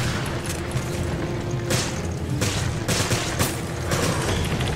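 Handgun shots in the video game Resident Evil Revelations, a few sharp reports spaced about a second apart over a dense, noisy game background, with no voices.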